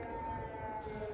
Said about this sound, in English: air raid sirens continued to ring from night into the morning